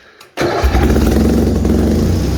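A Bolens HT-23 garden tractor engine cold-starts in -40 weather without choke and with the throttle raised. After a brief cranking sputter it catches abruptly and runs loud and steady, with no speech.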